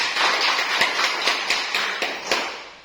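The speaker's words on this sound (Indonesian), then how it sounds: "Kita berikan aplaus dulu untuk." Classroom applause from a group of students: dense, steady clapping with a loose rhythmic pulse of louder accents, close and continuous for about three seconds with no talking.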